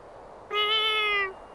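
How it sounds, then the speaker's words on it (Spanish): A single clear cat meow in the video game Little Witch Nobeta, a short tonal call of under a second over a quiet background. "¿Un gatito?"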